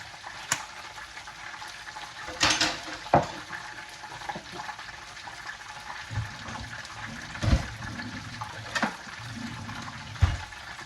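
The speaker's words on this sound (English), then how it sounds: "We're going to put that on a medium heat. I'm going to stir it around." A sauce of sesame oil and other ingredients is stirred in a pan over medium heat, with soft scraping, faint sizzle and a few sharp utensil knocks against the pan.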